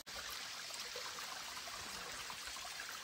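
Water from a small rain-fed stream tumbles steadily over a little waterfall, a continuous close rushing wash with no voices.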